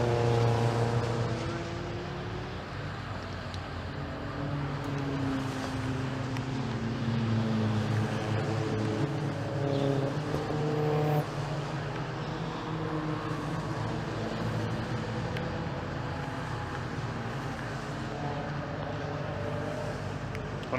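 Race cars on a green flag lap at Cadwell Park, with a steady loud engine drone and shifting tonal whine as cars circulate, continuous with no clear pass-by peaks.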